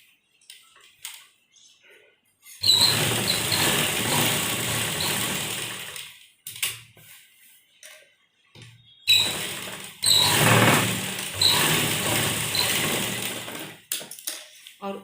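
A sewing machine stitches a binding strip on a blouse in two close, loud bursts of a few seconds each, with quiet pauses and small handling noises between them.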